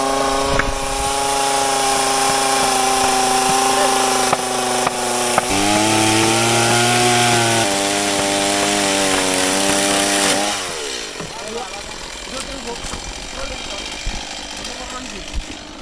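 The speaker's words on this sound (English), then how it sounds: "Another chainsaw, people." A chainsaw roars loudly and steadily at close range in Fiji, its pitch shifting as it bites into wood, then drops to a lower idle near the end.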